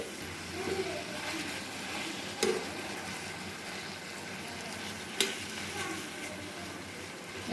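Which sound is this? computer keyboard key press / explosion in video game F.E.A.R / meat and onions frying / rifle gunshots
meat and onions frying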